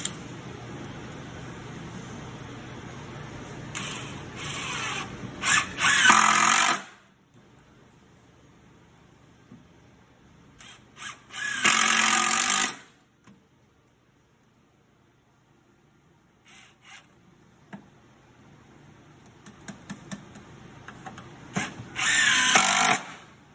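A power drill drives screws down into wooden chair seat slats in three separate loud whirring bursts, each a few seconds long, with quiet pauses and light handling noises between them.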